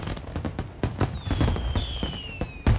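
Gunshots in the Mafia Definitive Edition video game, several sharp cracks scattered irregularly over a few seconds, moderately loud, with a whistling tone sweeping through the middle.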